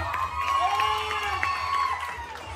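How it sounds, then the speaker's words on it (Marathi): Cheering and crowd noise from a village audience at a Home Minister game event in Kalambusare, a steady lively roar with whoops and shouts throughout, though clear clapping is hard to pick out. "सर्व जोरदार टाळ्या झाल्या पाहिजे"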